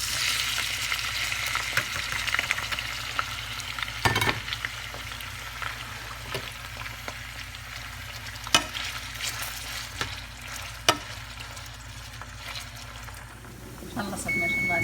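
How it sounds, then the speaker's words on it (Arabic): Onions fry in a pan for a rice and meat dish, giving a constant close hiss with a few sharp knocks of a spoon against the pan and brief liquid sounds near the end. "الحين ناخذ البصل ونقليه ونطلع نص الكمية ونترك الباقي عشان نضيف عليها اللحم"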